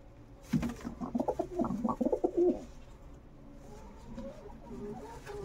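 Lal Dom pigeons, two pairs, give a close run of soft, throaty coos in quick succession. The coos fade into quieter, scattered calls.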